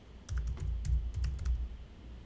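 Keys tapped on a computer keyboard while entering a field expression in a web-scraping tool, a close, quick run of soft clicks over a low room hum, with no talking.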